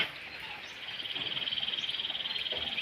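Frogs croak in a rapid, steady pulsing chorus during rainfall in a Thai rice-field or wetland setting, moderately near and continuous, with faint rain hiss beneath and no talking.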